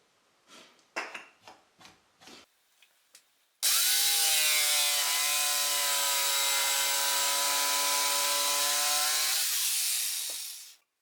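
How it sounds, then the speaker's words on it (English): A hand rasp scrapes a wooden rafter tail in several short, separate strokes, after which a loud, steady power tool drowns everything for several seconds before cutting off. "A bit of rasping for touch-ups."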